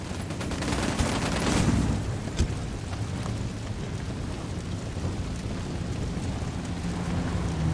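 Gunfire in Ghost Recon Wildlands on Xbox One: dense, rattling volleys of shots that swell over the first two seconds, then continue as a steady, rumbling barrage with occasional sharper cracks.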